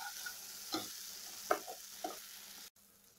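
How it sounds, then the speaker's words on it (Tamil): A ground paste is stirred into cauliflower and green pea masala in a pan, giving a faint soft sizzle with three or four gentle scraping strokes before a sudden cutoff. "சேர்த்துட்டு இந்த மசாலாவோடு சேர்த்து நல்லா 1 நிமிஷம் கிளறி விட்டுக்கலாம்"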